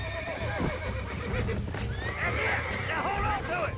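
A horse neighs and whinnies repeatedly while being tamed in the video game Red Dead Redemption, with clip-clop hooves underneath and a voice talking over it.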